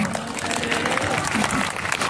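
A church congregation clapping hands together, a dense continuous patter of applause mixed with crowd voices, loud and close.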